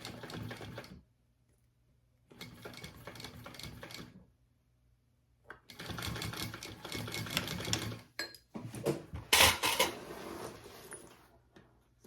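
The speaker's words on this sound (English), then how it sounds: "So I'm just gonna sew over that real quick, and then we'll turn it right side out." A sewing machine stitching a mini backpack runs in several bursts of rapid, close mechanical whirring separated by short pauses, ending with some clatter and handling noise.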